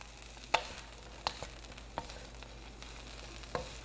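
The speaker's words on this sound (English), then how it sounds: "I'm going to add my kale, and then my leek. I'm going to saute between 3 and 5 minutes." Kale and leek sautéing in sesame and canola oil for a stir-fry, a soft steady sizzle with a few sharp clicks and pops of stirring scattered through, fairly quiet and close with no talking.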